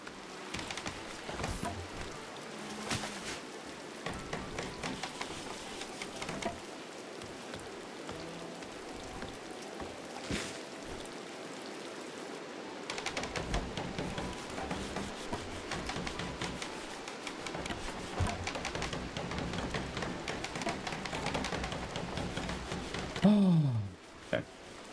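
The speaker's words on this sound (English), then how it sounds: "These rains need to end because the flooding is getting kind of bad." Steady rain in a medieval colony-building game pours down with heavy flooding, a constant broadband hiss that persists throughout, ending with a brief rising chirp.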